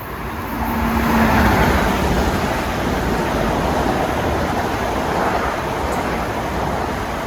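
A Long Island Rail Road train, Ronkonkoma to Penn, rolls past Forest Hills station in the morning rush, a broad steady rushing roar that swells then holds, close and loud, with no talking.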